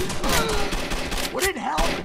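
Rapid bursts of gunfire striking a wall in the video game Rainbow Six Vegas, loud and close, with shouting voices over the shots.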